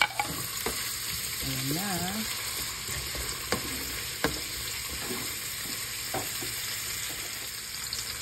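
Garlic fries in a pan for chicken tinola, a continuous bright sizzle with scattered sharp clicks from stirring and a short warbling tone, while a voice briefly speaks.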